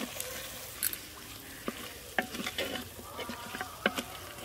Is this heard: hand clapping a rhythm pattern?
no